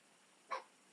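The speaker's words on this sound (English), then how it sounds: "Oh, the dog's barking." A dog gives a single short, faint bark from somewhere in the distance, set against a quiet room background.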